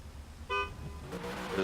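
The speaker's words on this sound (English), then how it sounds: "There's his horn, he's off and running." A drift car at a qualifying event gives one short honk of its horn, a brief buzzy toot followed by rising engine and crowd noise at a distance.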